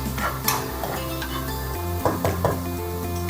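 Sliced large onion going into a hot pan while cooking Madurai mutton kulambu, giving a soft sizzle with a few clinks and scrapes of a utensil against the pan.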